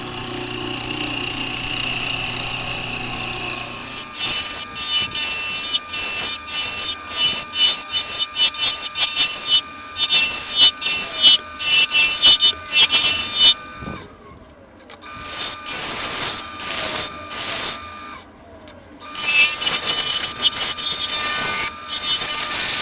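A woodturning lathe cutting a spinning wood cylinder for a ring, a hum at first, then a long run of dense rapid chattering tool scrapes, briefly quieting before resuming, loud and close.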